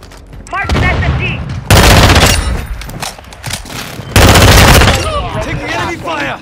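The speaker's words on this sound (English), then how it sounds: "Taking enemy fire!" Call of Duty Modern Warfare 2 multiplayer gunfire, loud sustained automatic bursts in two long volleys, with in-game voices calling out between them.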